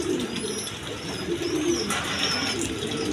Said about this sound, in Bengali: প্রথমে এক পেয়ার ব্লেজার কবুতর দিয়ে আমি শুরু করতেছি